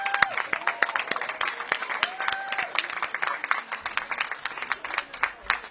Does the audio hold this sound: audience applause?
yes